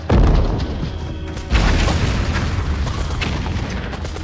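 Heavy gunfire and booming blasts from a war film battle scene, loud and close, with a big thump at the start and another at mid-clip over a continuous rumbling din.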